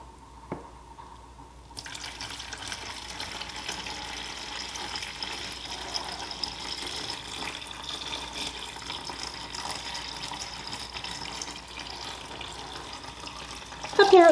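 Water steadily poured into a container for yarn dyeing, a continuous close splashing fill that runs for most of the stretch with faint voices in the background.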